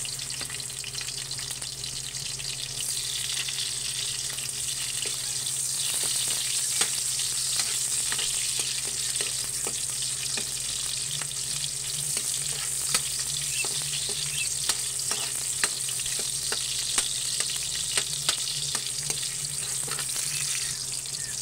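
Chopped onions sauté steadily in a hot pan for ginisang sayote with giniling, giving a dense, continuous sizzle with scattered crackles and occasional stirring scrapes, close and fairly loud, with no voices.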